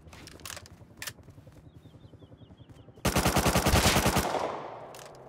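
Rapid gunfire in Roblox Bedwars rattles in a steady stream of quick shots, quieter at first and then a loud, dense burst for about a second before tapering off.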